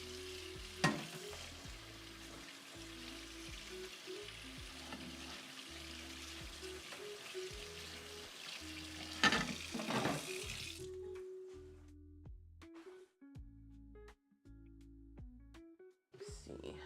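A kitchen faucet runs steadily while a plate is rinsed under it, giving a continuous close hiss with a few clinks, before the water cuts off and quieter handling noises follow.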